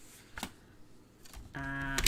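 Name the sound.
paper trimmer cutting card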